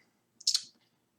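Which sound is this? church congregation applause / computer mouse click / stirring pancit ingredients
computer mouse click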